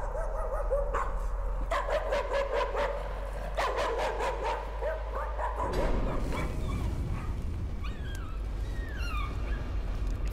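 A dog barks repeatedly inside the horror video game Layers of Fear, sharp yips in quick bursts followed by whimpering, set against a low ambient hum with no talk.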